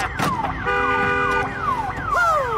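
An alarm wails in the video game Days Gone, a loud siren sweeping up and down repeatedly, with steady electronic tones layered beneath it.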